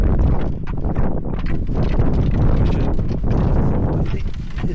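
Strong wind roars and buffets the microphone continuously at a campsite in Big Bend National Park, Texas, a loud, rumbling outdoor gust with rustling.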